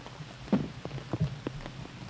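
Light rain falls on an outdoor disc golf course during a European Open tournament round, a steady soft patter with a few sharper drop hits, quiet and close with no talk.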